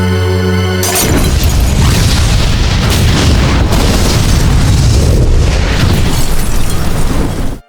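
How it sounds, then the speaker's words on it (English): A loud, sustained explosion blast erupts after a brief quiet tone, rolling boom and crackling debris roaring for several seconds before cutting off abruptly. "An explosive sound followed"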